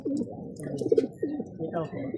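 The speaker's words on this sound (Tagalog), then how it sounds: "Kararating pa lang ng ibon." Close, low cooing from a pigeon that has just arrived, in repeated throaty phrases, with a few faint chirps and someone speaking briefly.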